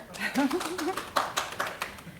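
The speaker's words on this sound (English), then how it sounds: "clap louder" A few scattered handclaps from a small audience at an academic presentation, sharp and sparse, mixed in with a person talking nearby.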